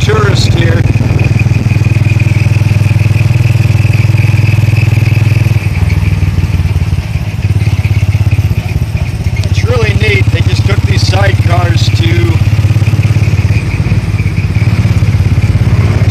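Motorcycle engines idle and rev close by on a busy street in the Philippines on a Saturday night, a steady low drone under continuous traffic noise, with people talking over it.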